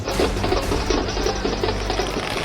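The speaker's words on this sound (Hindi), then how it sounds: "ये नगारों की थाप," Steady, evenly spaced nagara kettle drum beats thump through a dense, noisy crowd roar at a BJP election victory celebration in Delhi.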